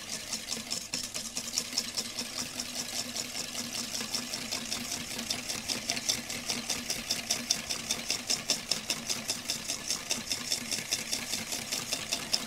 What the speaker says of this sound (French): Et là, je vais mélanger avec un fouet.